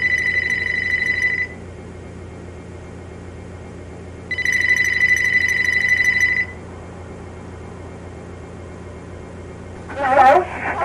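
A telephone rings in a video game, two long electronic ring bursts with a pause between them, fairly loud over a low steady background, followed by a short different noise at the very end.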